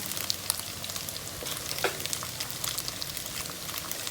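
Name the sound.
eggs frying in the center of pad thai pan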